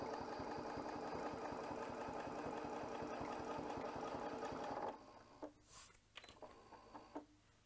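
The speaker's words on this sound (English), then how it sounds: "I'm going to give the machine a little bit of power here, and the foot's going to drop down, and it's going to start sewing." Domestic sewing machine stitching fabric for ruler quilting, a steady rapid mechanical whir running loud and continuous for about five seconds before stopping abruptly, followed by a few faint handling bumps and brief rustles.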